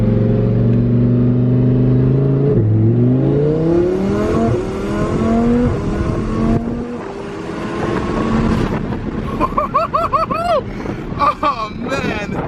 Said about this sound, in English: we're about to take an 800 horsepower twin turbo Huracan for a drive